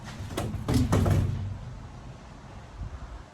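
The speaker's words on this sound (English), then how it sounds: "we can get the back door shut" Rear door of a Peugeot J9 van slams shut with a couple of loud, close thumps and rattles early on, followed by quieter handling noises and a faint knock near the end.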